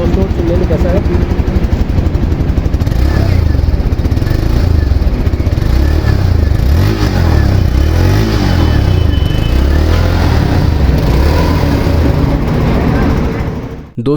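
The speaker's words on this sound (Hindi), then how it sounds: "और वो चेक करते हैं इसका एग्जॉस्ट नोट सुनने में कैसा है।" Loud, close exhaust from a 2023 Hero Xpulse 200 4V motorcycle as the engine runs and revs, its throbbing low note rising and falling in pitch before cutting off abruptly at the end.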